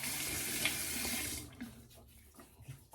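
A tap runs into a sink during wet shaving, a steady hiss of flowing water that cuts off partway, leaving quieter handling noises and faint drips.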